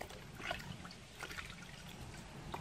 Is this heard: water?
yes